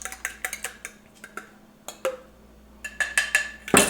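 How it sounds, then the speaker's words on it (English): Chicken wing marinade being mixed in a bowl, with a utensil tapping and clinking against the sides in an irregular series of close, crisp strikes, a quick flurry near the end. "now we're just gonna go ahead and just give this a little bit of a mix"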